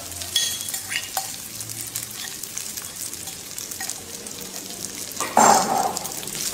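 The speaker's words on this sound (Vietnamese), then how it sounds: "Ở đây chúng ta chiên ở trên cái lửa lớn nha," Seafood fried rice stir-fried in a pan over a high flame, a steady crackling sizzle with scraping stirs throughout and a louder burst of frying near the end, close and without talk.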